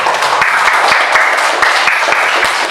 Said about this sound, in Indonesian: Silakan kasih tepuk tangan dulu untuk Justin